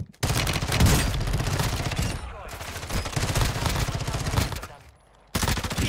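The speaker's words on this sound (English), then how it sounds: "He's shooting." Rapid automatic gunfire from a Tempus Razorback rifle in Warzone 2, loud and close in dense sustained bursts with brief pauses around the second and fifth seconds.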